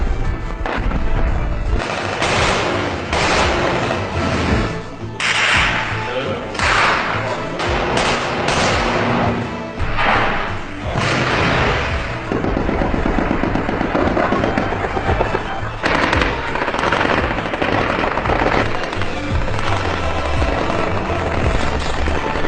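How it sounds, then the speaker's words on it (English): Loud, continuous wartime barrage of gunfire and rocket or missile explosions, with dense overlapping blasts and crackling reports that go on without a break. "Is the Egyptian army shooting rockets, RPG, missiles, tanks?"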